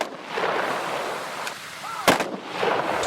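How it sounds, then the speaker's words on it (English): Rifle volleys of a 21-gun salute at a 9/11 memorial ceremony in Texas Tech's Memorial Circle, Lubbock: a sharp distant crack with echo amid open-air ambience. "21 gunshots echoed throughout Texas Tech's Memorial Circle for a day we'll never forget."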